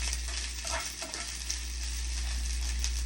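Longganisa sausage frying in oil gives a steady, close crackling sizzle with fine pops, under a low constant hum and with no talk.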